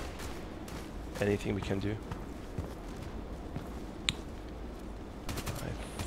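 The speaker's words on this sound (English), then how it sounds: "Maybe I try one more time the machine gun." Scattered machine gun fire and shots in the online shooter Contract Wars, with brief bursts amid the game's background clatter while someone speaks over it.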